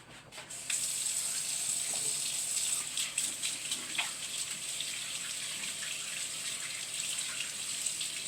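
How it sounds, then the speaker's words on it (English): Hands washed under a running kitchen tap, a steady hiss of flowing water that starts abruptly and continues with splashing changes, fairly loud and without any voices. "Wash my hands."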